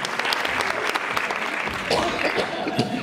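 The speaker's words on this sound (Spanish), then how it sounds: "Un aplauso para el Rubio, por favor, que bien habla" At a press conference for a band's album, the audience gives a dense, continuous round of applause for about three seconds, while someone speaks briefly over it.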